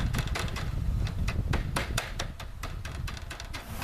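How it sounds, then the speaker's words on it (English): Repeated sharp metallic hammer taps folding stiff hardware cloth wire on a chicken tractor frame, a brisk irregular series of close, loud strikes with no talk. "I just take the hammer and do that, because the hammer doesn't mind getting poked"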